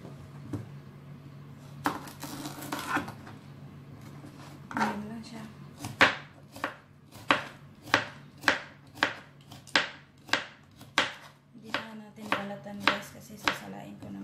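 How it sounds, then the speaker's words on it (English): A knife chops cucumber on a cutting board in a series of crisp, evenly spaced knocks that speed into a steady rhythm after a few scattered cuts, close and clear over a faint background hum. "Ayan guys, hiwain na natin itong cucumber."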